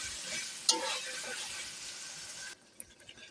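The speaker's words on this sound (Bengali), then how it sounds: "আলুটা দিয়ে আমি কিছুটা সময় আলুটাকে ভেজে নেব" Potatoes frying in a pan after the spices have been fried, for a jackfruit curry, a steady close sizzle with a sharp clatter near the start, dropping to a quieter hiss with a few small knocks toward the end.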